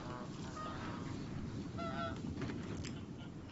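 Geese honking in the video game Knights and Bikes, a few honks rising briefly over a steady, busy ambient background with no one talking.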